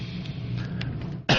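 Over a low, steady hum of a radio studio, one abrupt cough bursts out near the end, short and close.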